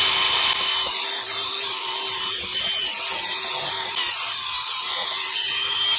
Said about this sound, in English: I'm going to clean the face of this hub with a wire wheel just to knock off some of that rust